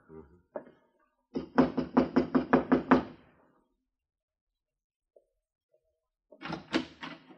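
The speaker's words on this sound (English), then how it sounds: "Knock." Knuckles rapping on a wooden door: a couple of single taps, then a quick run of about eight firm knocks, a pause, and another burst of knocking, close and clear.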